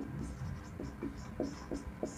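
Chalk or marker writing on a board during a physics lesson, a few soft scratching strokes with short rhythmic taps, faint and close, with no speech over them.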